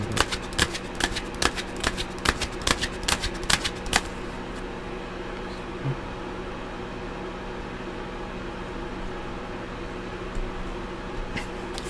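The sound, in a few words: shuffling tarot cards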